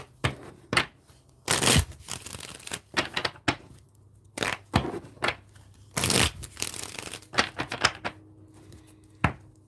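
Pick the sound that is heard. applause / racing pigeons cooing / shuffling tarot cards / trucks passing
shuffling tarot cards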